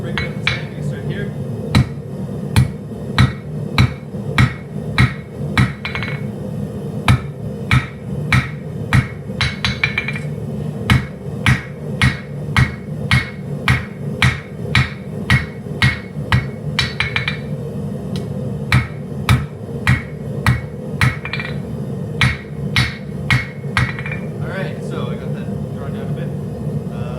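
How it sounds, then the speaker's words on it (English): A hammer strikes 52100 steel on an anvil to break down the tang of a hand-forged kitchen knife, ringing in loud, steady, regularly spaced blows over a constant background hum, with a few brief pauses. "I'm going to find a good spot on my anvil to break down the tang"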